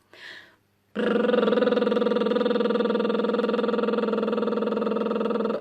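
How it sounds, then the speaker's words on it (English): A brief breathy intake, then a sustained buzzing lip trill on a steady low pitch, fluttering evenly for several seconds without a break. "a lip trill sounds like this"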